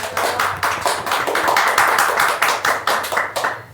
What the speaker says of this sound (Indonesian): beri aplaus dong buat Mas Yoyo.